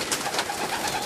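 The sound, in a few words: pigeon cooing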